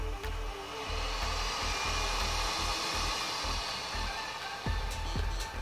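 A Yaogong SMD hot air rework station blows a continuous, steady rush of air with a low motor hum, close and fairly loud, with a couple of faint clicks near the end.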